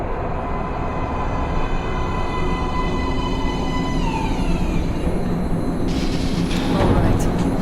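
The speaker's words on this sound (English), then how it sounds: "Train coming in." Steady rumble and metallic rolling of a metro train pulling into an underground platform in Metro Last Light, with a rising high screech of braking wheels near the end, under ambient station noise.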